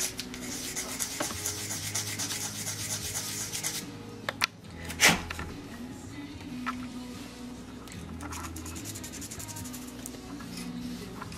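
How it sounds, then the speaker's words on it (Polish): Hand sanding on a Scania R560 V8 truck model build, a steady close rubbing rasp for about four seconds, then a sharp knock and scattered scraping strokes over low background hum. "Jeszcze trzeba tutaj przyszlifować. Szlifujemy."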